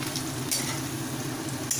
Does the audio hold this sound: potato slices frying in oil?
yes